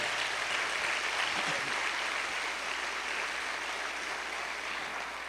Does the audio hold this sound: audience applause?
yes